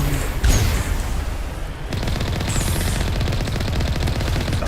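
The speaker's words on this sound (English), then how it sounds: "Stop firing the rockets at me." Rockets fired during heavy combat in Mass Effect Legendary Edition, continuous loud rapid blasts and booms filling the whole stretch, close and relentless with no voices.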